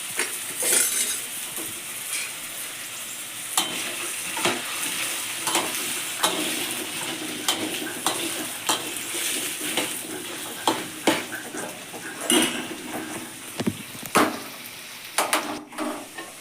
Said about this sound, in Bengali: তেল গরম হয়ে গেছে, আলু ছেড়ে দিচ্ছি। আলুগুলো প্রথমে ভেজে নিচ্ছি।